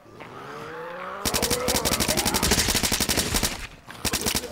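Rapid automatic machine-gun fire mows down zombies in the PC game Blood Waves, loud sustained bursts after a brief engine-like hum, pausing briefly before another short burst near the end.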